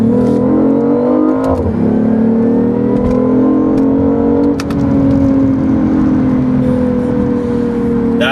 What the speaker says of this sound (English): So you can hear that artificial exhaust. Okay, it's not a real, it's an exhaust sound. It comes through the speakers, okay?